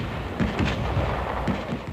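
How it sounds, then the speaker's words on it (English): Military combat training with mines blasting and machine gun fire, a dense, continuous barrage of booming blasts and rapid gunfire, loud and rough throughout with no talk. "Mines blasting. Machine gun bullets coming from nowhere."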